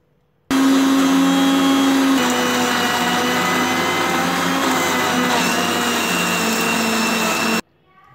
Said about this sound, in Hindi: एकदम बारीक पीस लिए हैं।